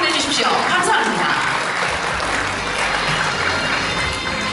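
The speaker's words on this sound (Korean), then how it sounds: "여러분 큰 박수 한번 보내주십시오." An audience at an investment forum in a hotel convention centre applauds, a dense burst of clapping that stays fairly loud for several seconds, with a speaker's voice over the start and the clapping fading toward the end.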